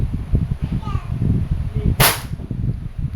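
A WE 1911 MEU full-metal airsoft pistol fires a single sharp, close crack during a test, heard once partway through under someone talking.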